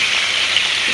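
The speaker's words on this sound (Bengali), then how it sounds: "মাছগুলো সুন্দর করে আমি ভাজা ভাজা করে পরে নামাই নেব।" Spiced pangas catfish pieces fry in white oil, giving a continuous, dense crackling sizzle at close range with no talking.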